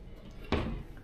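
A wardrobe drawer in a hotel room on Mauritius opens or shuts with a single short wooden knock and a brief slide, alone against quiet room tone.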